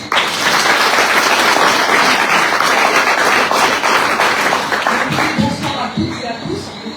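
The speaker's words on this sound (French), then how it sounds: "on va l'applaudir très très fort" Audience applause at a presentation of a 2024 cycling tour in Guadeloupe, loud continuous clapping from a crowd that thins out toward the end with individual claps standing out.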